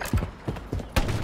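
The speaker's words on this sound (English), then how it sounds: "Changing mags." Magazine change on a gun in Modern Warfare 3, a quick run of close, crisp mechanical clacks and clicks in an uneven rhythm, with a sharp snap near the end.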